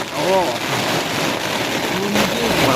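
Heavy monsoon rain pours steadily in the Gir forest, making a dense, continuous hiss. Brief animal-like calls and faint voices rise through the downpour.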